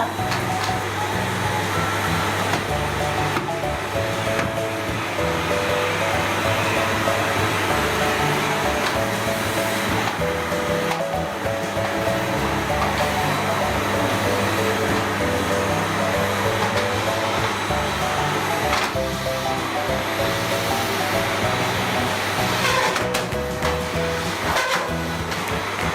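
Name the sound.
electric vacuum cleaner running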